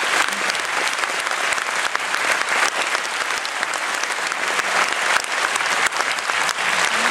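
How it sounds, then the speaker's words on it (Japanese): Steady, dense applause from a lecture audience thanking speaker Hirose after his talk on decommissioning the Tokai nuclear plant, sustained at an even level without letup. "再度皆様方の拍手で広瀬さんにお礼をしたいと思います"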